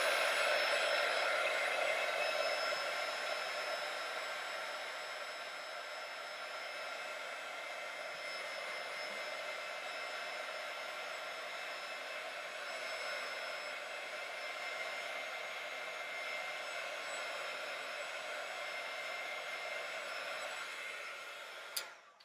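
A heat tool blows hot air steadily to dry a craft project, a continuous close whooshing hiss that holds level for the whole stretch before cutting off with a click at the end.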